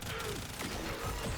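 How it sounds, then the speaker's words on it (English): Rapid bursting gunfire from a double-buffed Bursting Cannon in the video game Warframe, a dense continuous fusillade of shots layered with game effects, with a faint voice underneath. "This is a double buffed Bursting Cannon."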